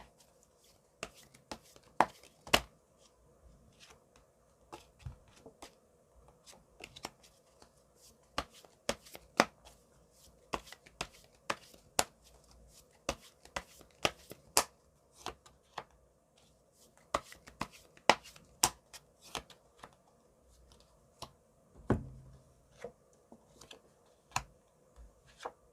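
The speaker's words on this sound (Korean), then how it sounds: "4번 분들을 위한 좋은 카드를 한번 뽑아보도록 할게요" Tarot cards being shuffled by hand, a long run of crisp, close riffles and sharp card snaps at irregular intervals over a quiet background, with no talking.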